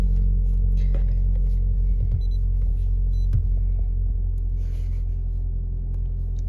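A cold Toyota Corolla engine idles close by with a steady, deep rumble and even droning hum, holding a constant level with no revving for the whole stretch.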